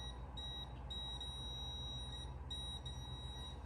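A voltage tester gives repeated high-pitched electronic beeps in short bursts on a live 110-volt light fixture connection, fairly quiet, pulsing at an uneven rhythm over a low background hum.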